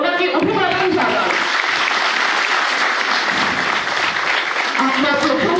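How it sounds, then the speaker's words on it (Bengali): Loud, continuous applause from an audience honoring footballer Robi Hansda at a felicitation in Purba Bardhaman after the Santosh Trophy win, a dense crowd of hands clapping close and steady throughout, with a voice faintly audible over it at the start. "সবাই সজোরে করতালি দিয়ে ওনাকে অভিবাদন জানান।"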